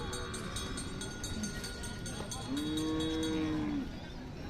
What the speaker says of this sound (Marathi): पाहू शकता मोठ्या मापाची मान तालुक्यातली गाय आहे.